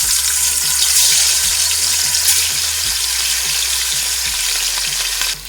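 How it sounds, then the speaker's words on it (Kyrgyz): Meat fries in hot vegetable oil in a kazan for Kyrgyz plov, a loud, dense, continuous sizzle that holds steady throughout, with faint low thuds underneath and no speech. "Кызыган майыбызга этибизди салып алабыз."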